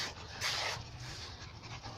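Puppies panting in a yard in summertime, a steady, quick, breathy rhythm heard close by for about two seconds.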